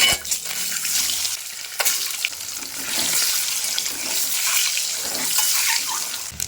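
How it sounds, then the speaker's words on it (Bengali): Four eggs fry in hot oil seasoned with turmeric and a little salt, giving a steady, loud hiss and crackle that runs unbroken throughout with no voices. "তেল গরম হয়ে গেছে, তেলের মধ্যে একটু হলুদ, সামান্য একটু লবণ হলুদ দিয়ে ডিমগুলিকে ভেজে নেব।"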